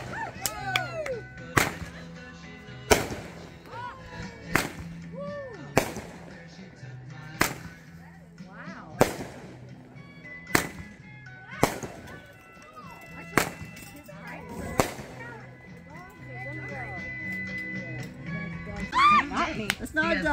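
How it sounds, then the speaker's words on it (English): Fireworks burst at a nighttime meetup, a regular series of sharp bangs roughly every one to two seconds, each with a short crackling tail, while people chat and call out in the background. "let me show you these fireworks."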